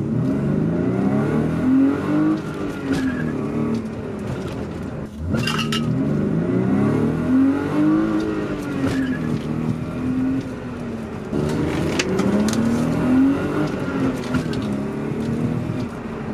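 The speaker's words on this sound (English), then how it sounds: "This car vibrates like crazy" A BMW E36 engine revs repeatedly in first through third gears, the car vibrating heavily above 3,000 RPM from a drivetrain or motor mount fault, rising and falling in pitch with a rough, droning hum.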